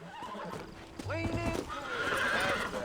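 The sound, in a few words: horse in video game Red Dead Redemption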